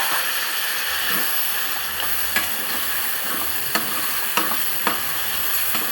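Tomatoes sauté in a hot pan with a loud, continuous sizzling hiss. Several sharp scraping knocks from stirring come at irregular intervals, and no voices are heard.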